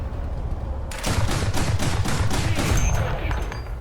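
Artillery barrage in the tank combat game War Thunder: a burst of heavy, overlapping booming impacts rolls in after a brief quieter moment and keeps rumbling loudly to the end.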